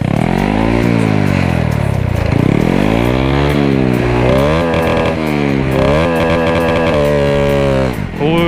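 A motorcycle with a lace filter fitted to the end of its exhaust pipe on a test ride, its engine loud and close throughout, revving repeatedly through rising and falling pitch sweeps as it pulls away and shifts gears.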